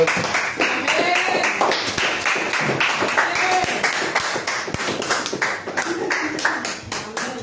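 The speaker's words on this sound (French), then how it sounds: "On acclame le Seigneur." A church congregation claps steadily in quick, rhythmic strokes. The sharp claps are close and carry on unbroken under singing and voices.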